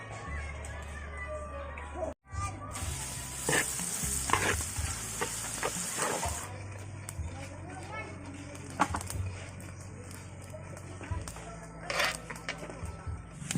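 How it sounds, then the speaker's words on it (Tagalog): Garlic toasting in a pan for hotsilog, a steady crackling sizzle with scraping stirs throughout, a brief dropout near the start, and occasional voices in the background. "Mag-toast tayo ng garlic."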